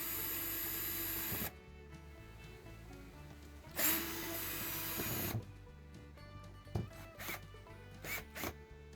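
A power drill with its clutch set low drives a screw into a replacement extension cord plug, giving an initial whirring run followed by short bursts of motor and clicking handling noises.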